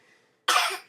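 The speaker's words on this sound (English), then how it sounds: "He does that and he makes himself cough." A baby boy around three months old gives a single short, close cough that bursts out after a brief quiet moment.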